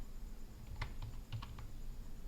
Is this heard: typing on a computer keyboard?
yes